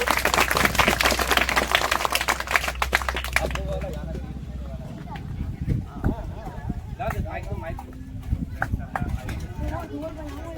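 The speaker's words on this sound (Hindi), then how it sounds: "इनके जोरदार तालियां बजाइए" A live audience applauds loudly for the director of a short stage play, Ulgulan. The dense, close clapping fills the first four seconds, then thins out and fades under talk.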